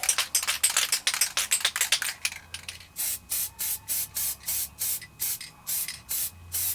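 Copper coat gasket sealant sprayed onto Harley-Davidson Ironhead rocker box gaskets: a fast rattling hiss, then a series of about eight short, even aerosol bursts with brief pauses between, close and loud, with no talking.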